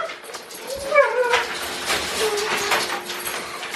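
Dogs whimpering and whining indoors at home, several high, wavering cries around the first second, followed by softer intermittent whines under faint background noise.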